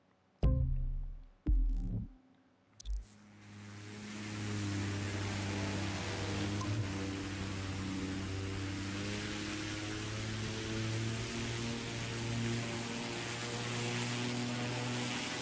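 An airplane engine in the racing game The Crew 2 spools up after a few sharp clicks and settles into a steady, droning hum with a low tonal buzz. It stays constant, moderately loud and unbroken, with no talking.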